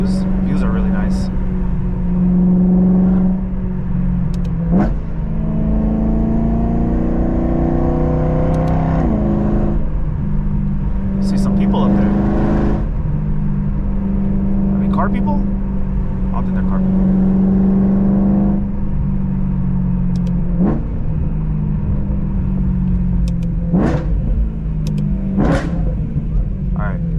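A BMW M3 pulls along a winding canyon road, its engine a steady close rumble that swells in several revving pushes, with wind and road noise running under it throughout.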